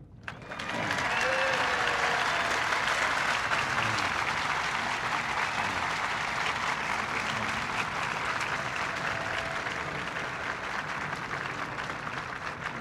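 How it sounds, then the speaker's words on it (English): A large crowd applauds at a welcoming ceremony for Pope John Paul II, with sustained dense clapping that swells quickly and stays loud and even throughout. "And today, all America applauds."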